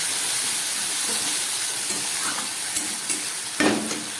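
Onion, dried chilli, ginger and peppercorns stir-fried in a hot pan, giving a dense, steady sizzle with occasional scraping stirs near the end, close up and without voices.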